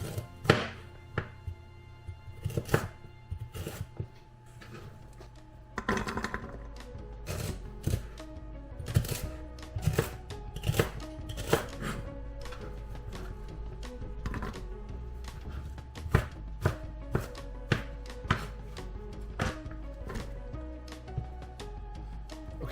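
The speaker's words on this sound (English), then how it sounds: "the first step of the recipe says to chop stuff up and just toss it into the Instant Pot" A knife chops vegetables and parsley on a cutting board for an Instant Pot beef stew. Crisp, close thunks come in irregular bursts, then settle into a steadier rapid rhythm, with no talking.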